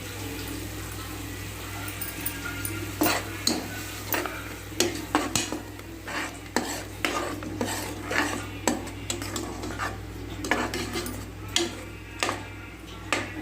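Ground masala paste for mint pulao frying in a pan, a steady soft sizzle beneath repeated scraping and clinking of a metal spoon stirring against the pan.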